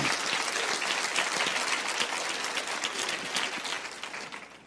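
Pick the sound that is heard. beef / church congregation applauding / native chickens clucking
church congregation applauding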